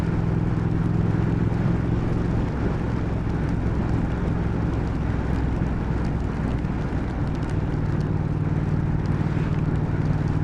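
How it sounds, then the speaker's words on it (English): A 2019 Triumph Speed Twin motorcycle cruises in fourth gear at about 40 mph on wet roads, a continuous low engine drone blended with heavy wind rush, steady and unbroken throughout. "Fourth gear, 40 mile an hour. Decent engine braking."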